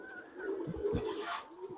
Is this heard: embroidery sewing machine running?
no